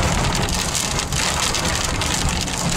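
Steady heavy rain pours down in the Altai region of Russia, a dense, continuous hiss of drops hitting surfaces close by, with no voices.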